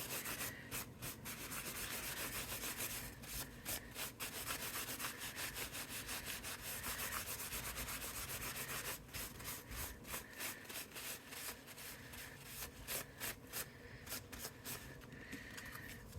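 An embossed card is rubbed and buffed to a shine, a faint, continuous dry scratching with rhythmic strokes throughout and no talking.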